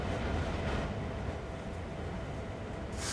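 A train rolls along in the Train Sim World 2 simulator, a steady low rumbling drone with faint hiss, continuous and alone.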